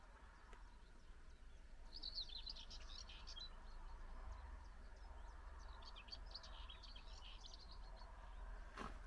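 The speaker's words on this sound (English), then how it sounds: "The birds singing in the background." Small birds sing faintly outdoors at a quiet rural spot, high chirping phrases coming and going over a low steady background rumble, with no voices.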